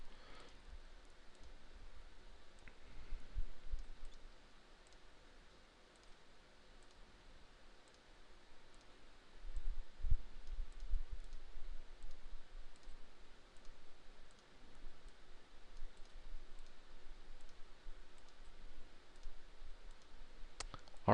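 Computer mouse clicks while measuring polygon angles in geometry software, scattered faint taps at a quiet distance with no talking.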